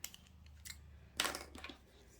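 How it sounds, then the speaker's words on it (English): Scissors trim the rough edges of a craft piece close by. A few quiet snips and rustles build to one louder cut near the middle, and no one speaks. "take your scissors and getting rid of that rubbish and trim"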